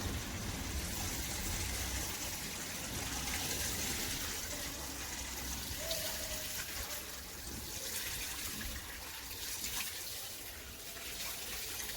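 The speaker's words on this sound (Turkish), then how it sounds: "Çok yukarıdan sulamanız gerekiyor." Water pouring steadily from above onto potted balcony plants, a continuous close splashing wash that holds level for the whole stretch without pauses.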